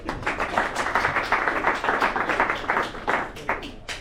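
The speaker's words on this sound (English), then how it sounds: "So let's give them a big round of applause right away." A modest round of clapping from a small audience at a Titletown Muskies Inc. club meeting for a sucker fishing panel. Distinct hand claps in an uneven patter, moderately close, fading toward the end.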